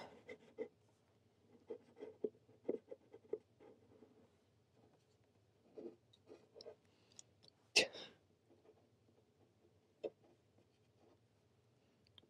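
A Kakimori nib scratches across paper while ink swatches are written, making faint, intermittent scritches and taps close by, with one louder rustle partway through.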